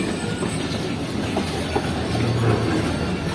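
An express train thunders past on the railway, a loud, steady roar of wagons with faint clickety-clack of wheels over rail joints filling the whole stretch.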